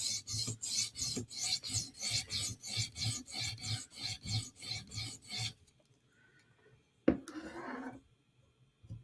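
Para 3 knife blade drawn across a stone on a TSProf Kadet sharpening system in a rapid, even series of rasping strokes, close and clear, then a pause and one final louder scrape.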